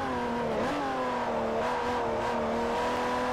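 Small older BMW car engine in Forza Motorsport 4, heavily upgraded A-class, droning steadily at high revs with a brief pitch dip as it works through corners, loud and close with no talk.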